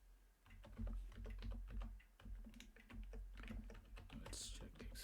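Rapid, uneven keystrokes on a computer keyboard at close range, a steady run of clicks and taps over about five seconds with no talking.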